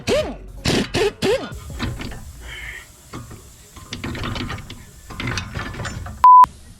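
A ratchet with a 16mm socket working on the lower ball joint bolts of a 2010 Volkswagen Jetta, giving sharp rapid clicking bursts up close, followed by clunks and a brief high beep.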